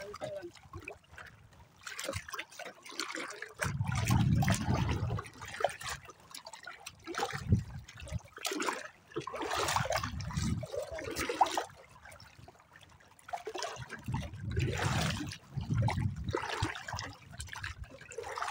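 Water current flowing past a stone near a building foundation, a steady trickling wash running throughout, with several bursts of talk over it.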